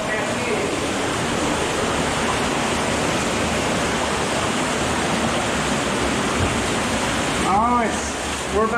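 Water pours steadily inside a cave where a waterfall crashes, giving a dense, continuous roar that fills the whole stretch, with a brief voice near the end.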